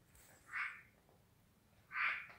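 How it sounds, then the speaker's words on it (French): A frog or toad calls twice at night near an old abandoned hotel, two short croaks about a second and a half apart, fairly close and clear over quiet background. "Une grenouille. Ah, un crapaud."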